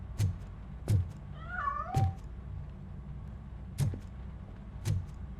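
A cat meows in the video game Robocop: Rogue City as it escapes, a short rising-and-falling cry in the middle set among several sharp thumps that land at intervals, with no talk.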